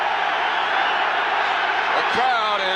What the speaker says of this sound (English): The crowd is extremely loud.